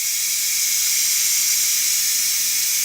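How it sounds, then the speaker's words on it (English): Steady, loud hiss of steam venting from a Ninja Foodi pressure cooker after cooking a roast, a continuous high rush with no pauses and no voices. "Gonna go ahead and let that air release real quick."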